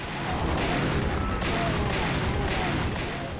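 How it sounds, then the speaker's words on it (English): A quad-barrel shotgun fires in the Doom Guncaster mod, with loud blasts repeating about once a second against a constant roar of combat. "this is like the quad barrel shotgun or something"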